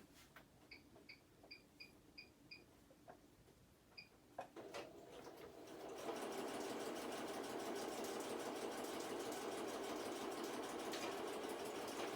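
A sewing machine stitches thread ends on a paper booklet, starting with a few soft beeps and clicks and then a steady close whirring hum that runs on continuously, with no talking.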